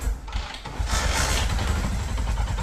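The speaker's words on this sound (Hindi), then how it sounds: "ये बाइक को करता हूँ मैं स्टार्ट" A motorcycle fitted with an LED headlight and mini controller starts up and settles into a steady, close, fairly loud engine run with no talking over it.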